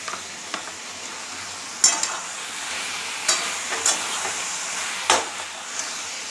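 Ginger and garlic paste frying in oil in a pan, a soft continuous sizzle broken by several sharp spatters and stirring clinks, close and moderately loud with no voices.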